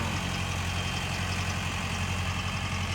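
A tractor engine runs at a steady idle, a continuous low, even rumble with a faint knocking pulse, close by and alone without any talk.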